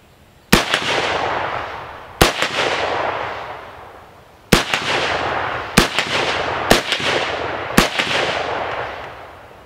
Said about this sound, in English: We're going to put 10 rounds down range onto this steel plate.